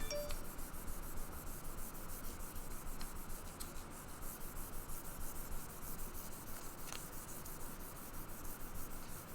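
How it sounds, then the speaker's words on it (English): Sandpaper rubbing steadily across a guitar body, a continuous close-up scratchy hiss with a faint regular back-and-forth rhythm and no voices. "Us just sanding on the wrong side of sandpaper."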